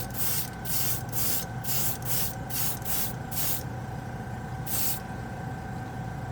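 Airbrush spraying chrome paint in a string of quick, even bursts of bright hiss, then a pause and one more burst, over a low steady compressor hum, no voices.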